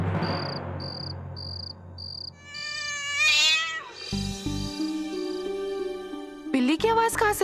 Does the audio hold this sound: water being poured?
no